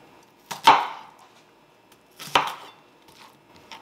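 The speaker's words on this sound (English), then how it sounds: "we're just going to give this just a real rough chop so these pieces are still fairly large" Broccoli being roughly chopped with a knife on a board, two separate sharp thuds about two seconds apart, close and clear with quiet between them.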